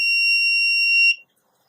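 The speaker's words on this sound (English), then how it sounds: "And the buzzer comes on." A Raspberry Pi laser tripwire buzzer sounds a steady, piercing electronic tone for about a second, then cuts off abruptly into silence.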